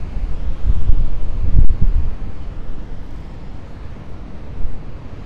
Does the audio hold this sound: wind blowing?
yes